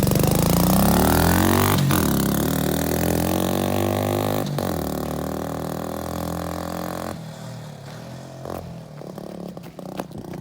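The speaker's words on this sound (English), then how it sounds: "there's a spark arrestor in it, so our neighbors won't get super pissed off, and there's a little bit of power to it, but it sounds pretty good" Honda ATC 70 pit bike engine running through a new exhaust fitted with a spark arrestor, loud and close, with revving pitch sweeps and sharp pops that settle into a rougher, quieter idle with sputtering toward the end.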